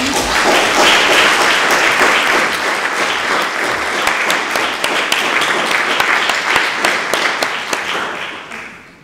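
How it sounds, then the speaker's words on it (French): Loud, dense applause fills a municipal council meeting in Mallemort, sustained clapping from the room that holds steady for about nine seconds before tapering off at the end. "je pense qu'on peut les applaudir aussi"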